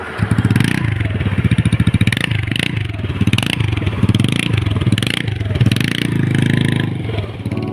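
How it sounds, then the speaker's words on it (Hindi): A Honda Activa scooter idles and revs with its silencer broken off, giving a loud, raw, rattling exhaust putter that runs continuously and pulses slightly, heard up close. "तो गाइस सिलेंसर निकल चुका है, तो आवाज़ सुनिए अब।"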